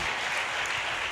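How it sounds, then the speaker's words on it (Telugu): A church congregation claps loudly in a brief, continuous burst of dense applause filling the room. "గట్టిగా చప్పట్లు కొట్టి"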